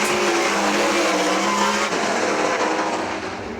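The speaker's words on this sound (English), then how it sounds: "These sprint cars are wild and can do anything at any time." Sprint cars racing at Hartford Motor Speedway, a loud, dense roar of several engines screaming together at close range, steady and sustained with a slight drop toward the end, no voices.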